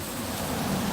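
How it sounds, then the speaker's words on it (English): Steady, even hiss of light rain falling in London, continuous and unbroken with no voices. "It's a little bit raining"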